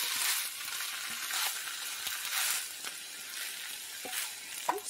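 Spinach frying in hot oil in a pan, a soft steady sizzle with faint crackles and occasional light clinks of stirring, quiet and close.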